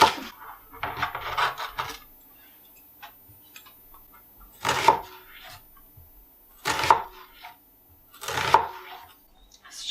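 A kitchen knife chops ingredients on a cutting board in a home kitchen, with a rapid burst of close, crisp cuts at first, then three separate clusters of louder chopping strikes spaced a couple of seconds apart, with quiet gaps between.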